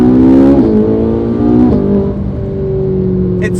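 A loud, high-revving 15-year-old Ferrari engine screams to 6,000 RPM and then drops back through gear shifts, heard from close inside the car.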